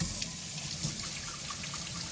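Tap water pours and splashes steadily into a cooking pot packed tightly with pieces of pork, a continuous close running stream for the whole stretch with no talking.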